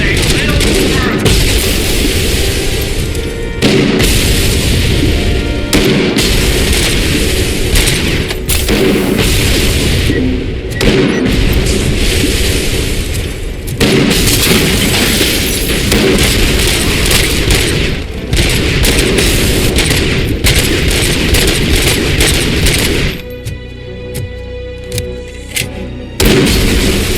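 Heavy Cobra cannon fire in the RoboCop Rogue City game, repeated loud booming blasts with crashing debris over a dense, constant battle din, ending in a quieter tail.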